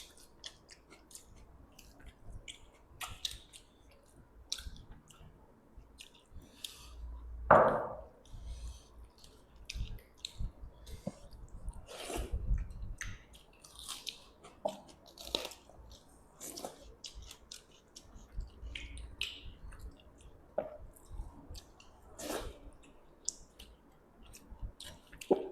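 Someone eating fish with panta rice and other Bengali dishes, with close, wet chewing and small squishy bites, plus occasional clicks and one louder thump, over a quiet background.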